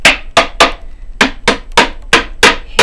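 Hammer striking a pine wood beehive super, about ten sharp, close knocks in an uneven rhythm, each a crisp bright impact with a quick decay and no talk.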